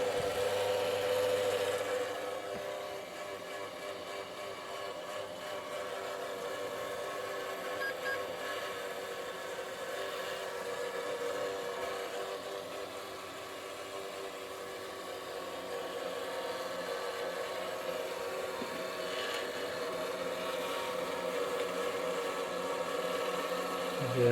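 A steady, rough whir of a worn cooling fan in a Dell OptiPlex 755 computer runs continuously at moderate volume, close by, with a slight wavering hum and no speech.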